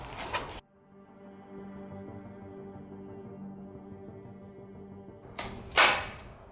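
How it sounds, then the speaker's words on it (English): Two sharp snapping releases of a slingshot, one at the start and another near the end, with a low steady hum in between. "get the slingshot out and try and take a shot"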